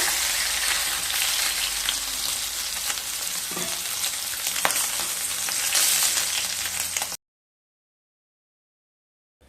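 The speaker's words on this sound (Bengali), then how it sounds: "দুটো সাইড মাছগুলোকে খুব ভালোভাবে ভেজে নেব" Pieces of rohu fish fry in hot oil in a pan with a steady, close sizzle and crackle, which cuts off abruptly into silence.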